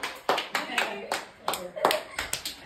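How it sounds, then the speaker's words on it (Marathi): People clap their hands to welcome a Ganpati idol arriving at a family home: about a dozen rhythmic claps, close and lively, with voices mixed in. "चला स्वागत करा, टाळ्या वाजा."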